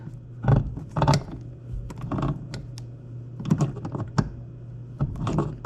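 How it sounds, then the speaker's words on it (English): A plastic dishwasher part being screwed on by hand under the appliance, with close, irregular clicking, rubbing and knocking in short bursts and no speech. "now I'm just gonna screw it on."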